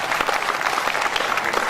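A mushaira audience in a college hall breaks into dense, sustained applause, many hands clapping close and loud for nearly two seconds without a break.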